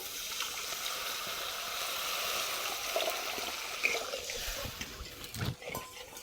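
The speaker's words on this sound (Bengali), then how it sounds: "তেল ছেড়ে দিয়েছে এবার আমি এর মধ্যে একটু জল দেবো" Water poured into a pan of snakehead fish cooking in oil with turmeric and salt, a steady close rush of liquid over the simmering fat that tapers off with a few splashes near the end.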